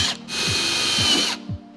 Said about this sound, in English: We'll run some screws in it just to keep it there.